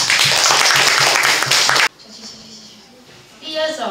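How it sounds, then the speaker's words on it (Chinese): Dense, loud audience applause at a class reunion music concert, a burst of clapping lasting about two seconds before cutting off abruptly into quiet room sound. "来宾请掌声鼓励"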